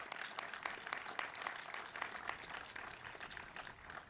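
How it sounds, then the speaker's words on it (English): A crowd gathered for the grand opening of the Clarksburg, Maryland fire station gives a round of applause, a faint, distant patter of many hands clapping outdoors, steady throughout. "Let's give them all a big round of applause."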